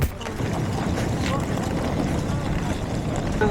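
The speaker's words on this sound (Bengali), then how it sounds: "আমি বোট থেকে নেমে পড়লাম" A boat at the harbour just after arriving from the crossing to Nusa Penida gives a steady, close, broadband rumble of engine and water, with wind buffeting throughout.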